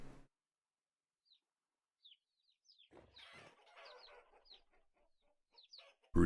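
Chickens in the survival game Vintage Story give a few soft, scattered clucks and short calls against near silence, with one livelier burst of clucking midway.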